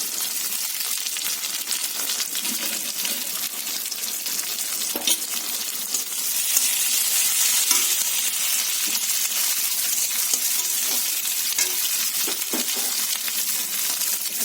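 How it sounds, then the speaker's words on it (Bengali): Chopped onions frying in oil in a pan, a steady close sizzle throughout with scattered stirring clicks and scrapes, growing slightly louder partway through. "তেলের মধ্যে পেঁয়াজ ছিল কাটা কাটা পেঁয়াজটা দিয়ে দিলাম এখন"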